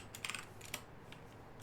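Someone types C code on a computer keyboard in Notepad. Quiet, close keystrokes come in quick irregular clusters, with soft isolated clicks between them.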